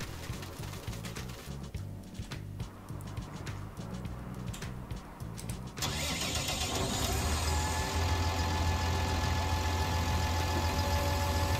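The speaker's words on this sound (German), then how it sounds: "Und in der Zeit den Traktor vom Feld fahren" A tractor engine in Farming Simulator 19, first a lower rumble with clicks, then a louder, steady droning run as the tractor drives off the field, with no talk.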